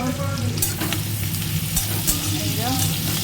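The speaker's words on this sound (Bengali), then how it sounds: "পেঁয়াজগুলো ভেজে নিচ্ছি ভালো করে" Onions sizzle steadily in a pan up close while being stirred, with scraping clicks and a low hum underneath.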